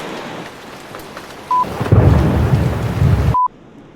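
Rain pours steadily in Puerto Rico while a deep roll of thunder swells beneath it and then cuts off abruptly; a short electronic beep sounds twice, with no voices present.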